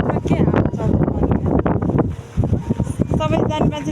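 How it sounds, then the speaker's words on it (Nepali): Strong wind blowing at Tripurakot in Dolpa, Nepal, a loud steady rush and buffeting against the microphone while a person talks throughout. "यहाँ मान्छे उडाएर जस्तो हावा चल्छ कि"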